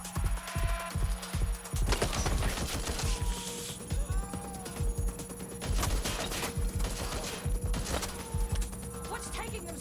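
Gunfire in the video game Watch Dogs: Legion, with rapid bursts of shots crackling repeatedly across the scene, mixed with talk and other game sounds throughout.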